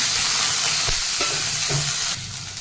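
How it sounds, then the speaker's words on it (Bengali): Paneer cubes frying in ghee in a pan, a steady close sizzle with occasional stirring scrapes and soft thumps, continuing without any talk. "পনিরটা আমি ঘি দিয়ে ফ্রাই করব।"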